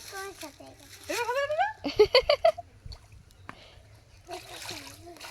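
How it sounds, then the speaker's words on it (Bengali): A child splashes while swimming in cold water, with a short cluster of sharp splashes amid excited child speech before and after. "ঠান্ডা মা জল খুব মজা। এটাই আমার সাঁতার কাটা"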